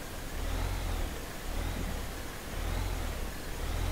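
A tractor engine in the video game Farming Simulator 2015 drones steadily at mid pitch, with the revs rising and falling slightly in slow waves, loud and continuous without talk.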